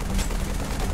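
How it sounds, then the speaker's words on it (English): A short, loud burst of rapid gunfire in Halo 3: ODST, dense and continuous for under a second. "he's still shooting it"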